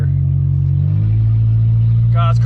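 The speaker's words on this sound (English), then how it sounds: "God, this car is so loud." A VW Golf 3 with a 1.8T engine and an open exhaust pipe runs loud, with a heavy, steady low drone that shifts pitch slightly early on; a brief voice-like sound comes near the end.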